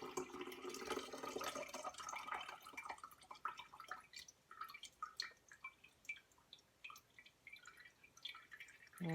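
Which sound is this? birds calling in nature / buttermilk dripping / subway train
buttermilk dripping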